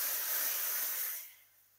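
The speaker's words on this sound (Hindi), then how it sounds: "अब इस पर मैं ये सफ़ेद ज़ीरा डालूँगा और फ़ौरन से मैं इसको दाल में डाल दूँगा।" Hot cumin tadka for dal sizzles in a loud, bright hiss that fades out sharply after about a second, leaving near silence.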